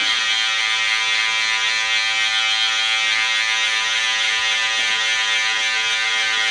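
An electric hair clipper fitted with a guard buzzes steadily while it cuts hair during a fade haircut. The bright, even drone stays close and loud the whole time, with no talk over it.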